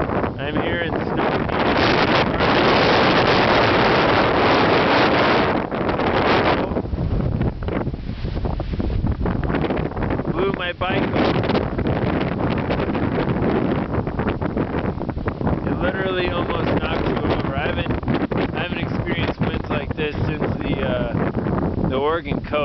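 Strong wind gusts against a tent pitched in snow, a loud, close buffeting roar on the microphone that surges and eases over the whole stretch, with a voice briefly heard under it.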